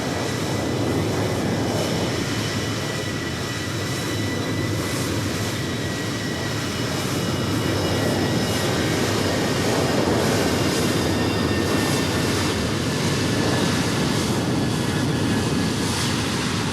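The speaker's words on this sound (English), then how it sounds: "737-800 taking off 25" Boeing 737-800 taking off at Los Angeles International Airport in Microsoft Flight Simulator 2020, a loud continuous jet engine roar with broadband rush that holds steady and swells slightly throughout.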